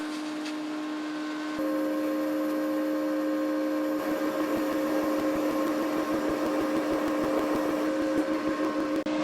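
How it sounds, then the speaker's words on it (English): An entry-level TIG welder arcs on metal as a steady electrical hum. The hum steps up in loudness, then a fine crackling sizzle rides over the drone until the end. "Let's try something a little bigger, and let's see if we can't make a weld here."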